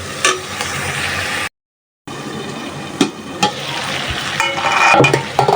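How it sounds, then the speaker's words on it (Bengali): Garlic and onions fry loudly in a pan, a dense continuous sizzle with intermittent stirring knocks and scrapes, a brief dropout partway through; no voices. "এখন রসুন আর পেঁয়াজগুলো ভালোভাবে একটু বেজে নিব"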